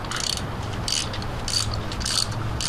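Ratchet clicking as a spark plug is threaded by hand into the cylinder head of a 2007 Nissan Sentra, with short bursts of pawl clicks repeating about three times, close and moderately loud, no talk.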